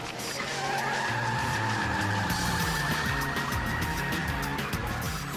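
A black Mustang accelerates hard during a police stop, its tires skidding and squealing in a loud, continuous screech over a roaring engine that holds steady throughout, with no talking.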